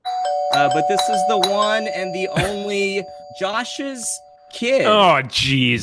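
A doorbell chimes indoors with steady tonal ringing, heard under several people talking and exclaiming in surprise over it.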